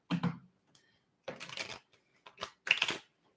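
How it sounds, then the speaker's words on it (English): A deck of tarot cards is shuffled in several separate riffling bursts with quiet gaps between them, close and crisp, with no voice. "Let's do a few shuffles here."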